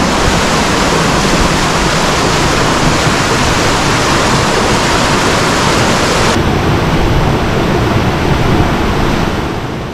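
Grey Mare's Waterfall in Glen Coe, Scottish Highlands, roars in a loud, unbroken hiss and rumble, steady throughout with no voices.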